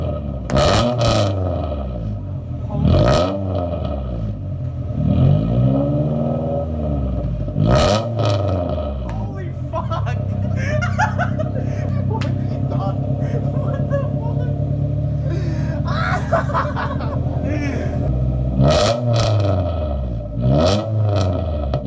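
A loud first car, with an exhaust note like a modified Honda, revs in repeated bursts, then settles into a sustained rumbling growl before more sharp revs near the end. Voices can be heard alongside the engine.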